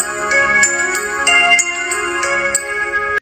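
A French middle school bell ringtone plays a bright electronic chiming melody, loud and close, with evenly spaced tones ringing out alone for about three seconds.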